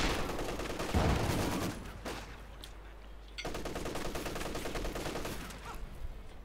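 MG34 machine gun fire in the video game Company of Heroes 2, rapid bursts of gunfire mixed with battle noise, one heavy explosive thump near the start, a lull, then renewed sustained firing.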